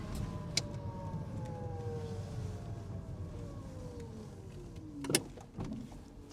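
A classic Mini converted to electric power drives on an open road, its motor giving a thin rising and falling whine over low road rumble, with a couple of sharp knocks near the end.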